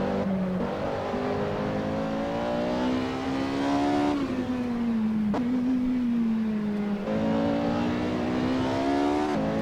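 A Porsche 918 in the Assetto Corsa racing game sings a continuous high-revving engine note, pitch rising and easing through corners as the car is pushed toward oversteer, loud and with no talk.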